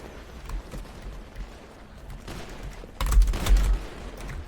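Gunfire in a GTA roleplay gang fight, a few faint distant bursts early, then two heavy, louder volleys close together near the end.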